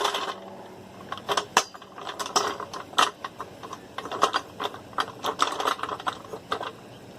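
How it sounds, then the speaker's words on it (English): A floor jack under the oil pan of a Toyota Sienna clicks as it raises the van, making irregular metallic ratcheting ticks and clunks in quick bursts, close and fairly quiet with no talk. "start jacking it up"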